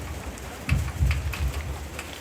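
Rain falls steadily outside a Toraja tongkonan house during a gathering, a continuous hiss of drops with low rumbling swells, no voices on top.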